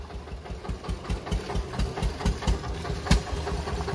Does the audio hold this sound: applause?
no